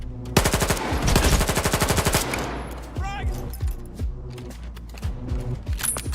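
Gunfire in the video game Stalker 2, with rapid automatic bursts firing close and loud at the start, then scattered single shots and mechanical clatter over game ambience.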